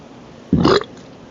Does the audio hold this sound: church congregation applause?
no